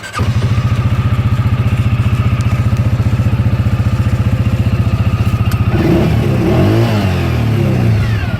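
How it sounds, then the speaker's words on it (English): A 2019 CF Moto Z Force 500 UTV engine runs close and loud in a fast, even, throbbing idle, then blips up briefly and settles into a rougher, shifting drone near the end. "Nice sounding motor on this machine."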